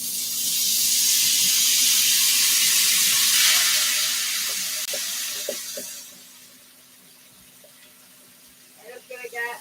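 Food hisses and sizzles loudly in a hot oil and butter mixture in a pan at close range, easing to a quieter fizz partway through, with a few clinks and faint rustles near the end.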